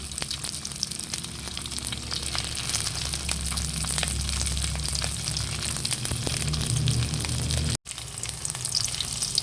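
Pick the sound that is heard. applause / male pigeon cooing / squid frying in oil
squid frying in oil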